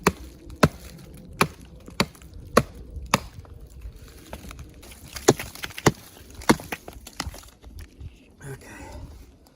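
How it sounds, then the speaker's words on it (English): Wood is chopped for a campfire at a rustic shelter in winter woods, with sharp, close hatchet-like strikes coming irregularly every second or so, a few splintering cracks, and quiet talk between the blows. "I'm just going to chop some of this stuff to get the fire going quick."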